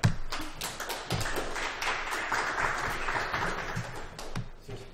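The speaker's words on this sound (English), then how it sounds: "Give a big round of applause for Fred." A workshop audience gives steady applause lasting several seconds after a Windows 8 afternoon session. Individual claps are audible within the even, moderately loud crowd clapping.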